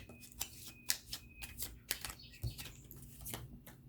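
Quick riffling of tarot cards being shuffled, a series of sharp papery bursts in an uneven rhythm, close and fairly quiet.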